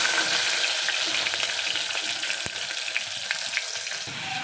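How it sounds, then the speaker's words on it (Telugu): Onions fry in hot oil with a dense, continuous sizzle and crackle, close and loud, for a chicken curry base with ginger-garlic paste. "ఆనియన్ ఫ్రై చేసుకోవాలి"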